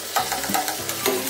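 An egg sizzles in a pan while being fried for home-cooked noodles, with soft crackling and a few light stirring scrapes close up.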